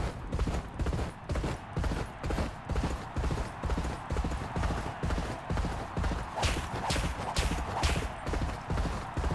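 Racehorse hooves galloping in the G1 Jockey video game during a race at Louisville: a steady, fast, rhythmic drumming of hoofbeats that stays loud and close throughout, with no talking.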